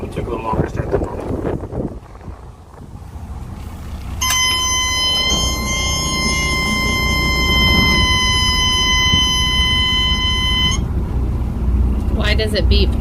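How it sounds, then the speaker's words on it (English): A loud, steady electronic oil-pressure alarm on a trawler yacht sounds continuously for several seconds over the low rumble of the running engines, then stops. "It has an alarm, so if we lose oil pressure, that goes off, and it's so loud you can't not hear it."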